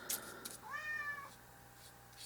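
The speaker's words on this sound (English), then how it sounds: "Ignore the cat." A cat meows once, a clear, close, rising-then-falling call, set between a few light scratchy knocks and a faint steady hum.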